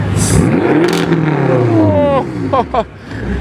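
A 2022 BMW M5 CS engine revs loudly nearby, a deep swelling roar that rises and falls, then breaks into a couple of short sharp blips, with voices talking over it.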